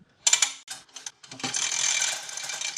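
McKillans 3/8 inch pressure washer hose being wound onto a reel by hand: several close ratcheting clicks, then a continuous whirring rattle as the reel keeps turning.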